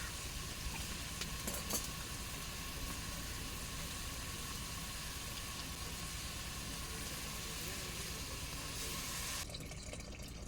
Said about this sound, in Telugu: చింతపండు పులుపు వేసుకుని కలుపుతున్నాను